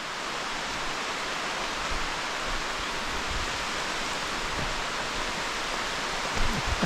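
Dense, steady downpour in a Martinique rainforest hissing without pause, a thick wash of rain with faint rustling and occasional low thumps.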